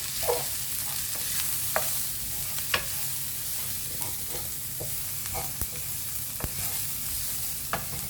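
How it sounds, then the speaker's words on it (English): Vegetables sauté in a hot pan while being stirred, a steady sizzle broken by scattered scrapes and clinks of the utensil, close and fairly quiet, with no talking. "Now we're gonna have to saute it for 2 minutes"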